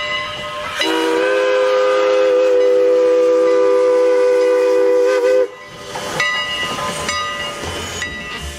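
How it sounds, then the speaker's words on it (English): A loud, sustained steam train whistle blows for several seconds, then cuts off to the chugging, clanking rumble of the passing steam train with brief whistle toots. "here comes the steam train"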